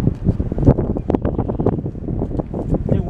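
Strong, gusty outdoor wind buffets the microphone in loud, continuous rumbling bursts that rise and fall without pause.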